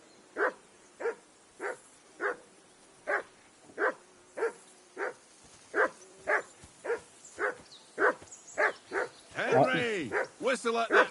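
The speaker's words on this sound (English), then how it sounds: "whistle at that mutt of yours to stop barking" A dog barks repeatedly at a steady pace in the video game Kingdom Come: Deliverance II, clear and fairly close, with some yips near the end and quiet background ambience.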